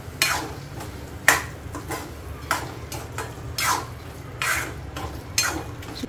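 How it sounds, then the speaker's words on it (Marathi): Sprouts curry being sautéed in a pan, with a spoon scraping and knocking against the metal in irregular strokes over a low steady sizzle, close and clear, with no voices. "छान याला परतून घेऊया."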